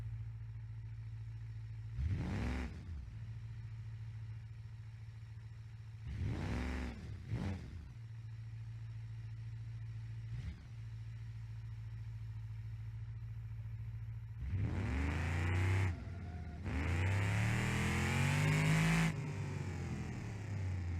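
An electric car in BeamNG.drive gives a low steady hum punctuated by several rising-and-falling whooshing sweeps of acceleration, growing louder and busier toward the end.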